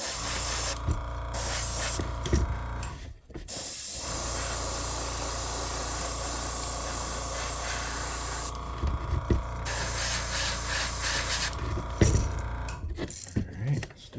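Airbrush spraying paint onto a crankbait fishing lure, a steady close hiss in long bursts separated by brief pauses, with faint clicks and handling noises between passes.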